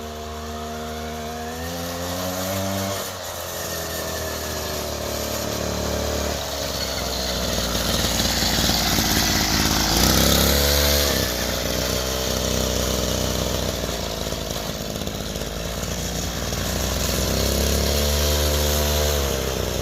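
A 49cc mini chopper's small engine buzzes and idles raggedly, with repeated throttle blips that rise and fall in pitch as it launches, close and continuous throughout.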